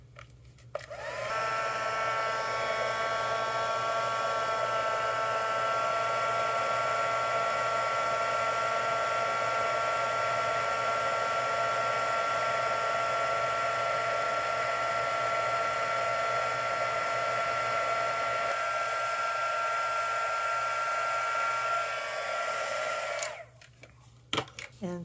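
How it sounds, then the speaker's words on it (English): Heat tool blowing on embossing powder, a steady loud whirring blower hum that starts abruptly, holds evenly for about twenty seconds and then cuts off, alone without speech. "When you heat it, you're going to use the heat tool and it's going to pop up like popcorn"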